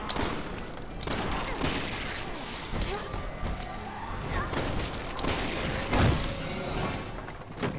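Gunfire sounds in a Resident Evil game during a crop destruction mission. Loud, rapid bursts of shots and crashing impacts come in irregular clusters, mixed with thuds and mechanical noises.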